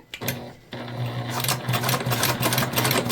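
Sewing machine back-stitching on a mini bag, a steady close, loud mechanical whirr with rapid stitching clatter that halts briefly after a quick start, then resumes and runs continuously.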